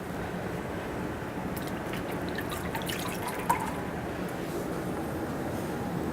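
Running water rinses a face mask off skin, a steady close splashing wash with a faint drip near the middle and no talking.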